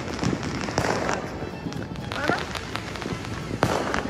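New Year fireworks bursting at a home celebration, a dense crackle of many small pops and bangs at a moderate distance, loud and continuous, with voices murmuring underneath.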